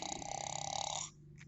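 A voice imitates a dog's loud snoring in a Spanish children's story: a single drawn-out, buzzing rattle about a second long that cuts off sharply, followed by faint background sound.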